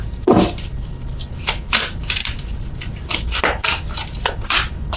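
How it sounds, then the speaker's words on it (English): Tarot cards are shuffled and riffled in quick, irregular bursts of papery flutter and soft slaps, close and fairly loud. "I'm terrible at shuffling these cards."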